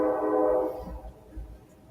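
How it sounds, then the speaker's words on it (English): A train sounds a loud, steady horn blast that fades away, followed by the low rumble of the passing train under brief faint talk. "There's the train right there."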